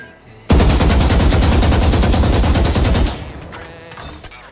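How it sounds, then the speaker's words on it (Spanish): A rifle empties its full magazine on a training range in Valorant: one loud, continuous burst of rapid automatic shots lasting about two and a half seconds, then a brief quieter tail. "Dispara todo el cargador al objetivo sin usar la mira."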